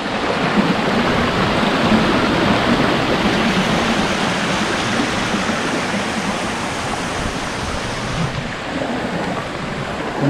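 Tinakayanan Falls pouring down, a loud, steady, close roar of rushing water that fills the whole time with no talk.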